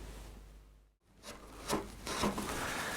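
Hand carving tool scraping and rasping along the bottom edge of a carved wooden shirt front, a few close rough strokes after a brief pause, no voices.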